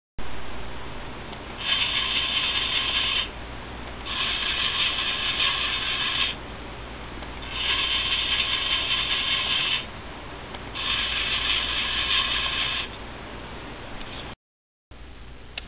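A toy crane driven by an Arduino runs its motor and gears in four steady bursts of bright mechanical whirring over a constant hiss, each lasting about two seconds, then stops briefly near the end.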